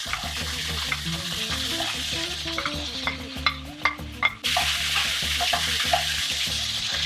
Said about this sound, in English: After you add in the onions and garlic, you'll continue to saute it over low heat for an additional 10 minutes.